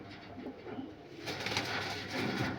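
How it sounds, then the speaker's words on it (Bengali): A green-eyed Malwai pigeon coos in low, murmuring rolls close at hand, steady and fairly loud against a busy background rustle. "বন্ধুরা একটা গ্রিন চোখের মালয় পায়রা"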